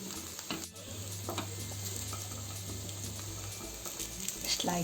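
Guliyappam fry steadily in a pan, a soft continuous sizzle with light scraping and clicks as they are turned, fairly quiet and close.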